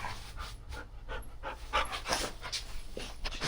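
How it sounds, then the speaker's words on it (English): Excited dogs pant rapidly and rhythmically close by indoors, quick breathy puffs in an uneven stream with no talking. "There's the crazy dogs in here getting all over everything."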